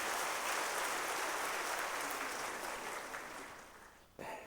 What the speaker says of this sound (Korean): 우리 뜨거운 박수로 축하하겠습니다.